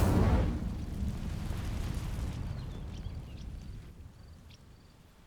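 Incendio fire spell bursting into dry vines in Hogwarts Legacy: a loud whooshing ignition at the start, then a steady roaring crackle of flames that slowly fades, with faint high chimes near the end.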